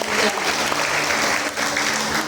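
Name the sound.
congregation applause for two people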